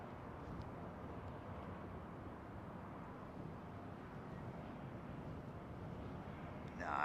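A China Eastern Boeing 777 freighter departs Heathrow with a distant, steady jet engine roar that swells slightly toward the end.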